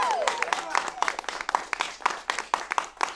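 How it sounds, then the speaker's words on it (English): Comedy show audience applauding, a steady wash of clapping with sharper individual claps and a host's voice speaking over it throughout. "Let's give a nice round of applause for all you guys for coming out."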